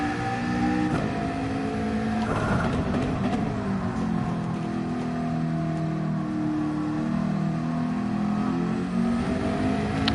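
McLaren car engine in Gran Turismo 7 revving and pulling through the gears, a loud sustained tonal drone whose pitch rises and falls with shifts, heard alone without talk.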